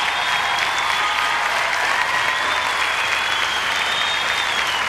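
A large crowd applauds at the 2002 European Standard ballroom dance championship in Denmark, a dense, continuous roar of clapping that stays even and loud throughout.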